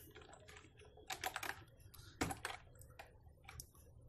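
Python code is typed on a computer keyboard in close, uneven bursts of clicking keys, with short pauses and one louder thumping keystroke partway through.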